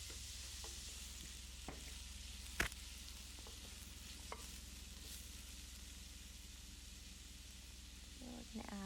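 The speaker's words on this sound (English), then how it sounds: "now we're going to go ahead and add our tomatoes. And we'll saute this for about 2 to 3 minutes" Tomatoes sauté with onions and garlic in a pan for spaghetti, a soft steady sizzle underneath occasional stirring clicks and one sharp knock, fairly quiet and close; no speech.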